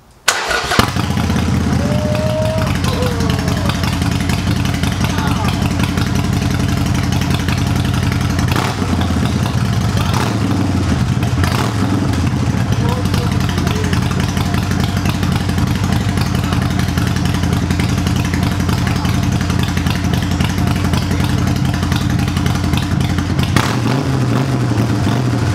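Harley-Davidson Sportster 48 fitted with Vance & Hines Short Shots exhaust starts up and runs loud and close for about 25 seconds, a steady deep idle with a few throttle blips and no talk over it.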